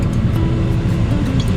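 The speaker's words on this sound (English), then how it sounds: "sorry about the noise, but the aircon is on full." A car's air conditioning runs at full blast on a hot day, a steady loud broadband blowing roar with a low hum underneath that stays constant throughout, with no talking.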